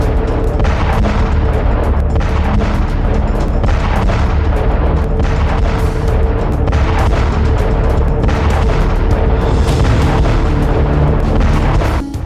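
A bomb blast rendered as a sound effect, a loud continuous deep rumbling roar that stays dense and heavy throughout without letting up.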